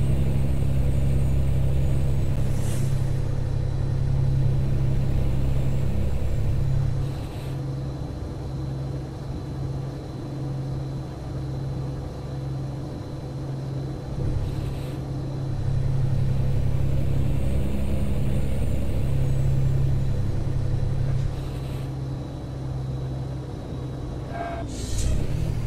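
The engine of a Peterbilt 387 truck in Euro Truck Simulator drones steadily with a deep, loud, continuous rumble, shifting slightly in pitch and level as it drives on, with occasional faint clicks and no talking.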